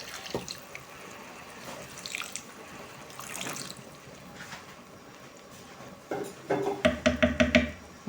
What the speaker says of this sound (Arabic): ندير له شويه ماء دافي